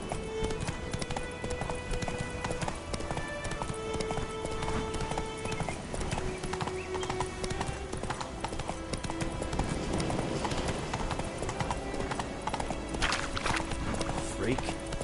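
A horse gallops in The Witcher 3 video game with rapid, steady clip-clop hoofbeats running throughout, alongside game sounds and talking.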